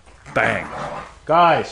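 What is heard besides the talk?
dogs barking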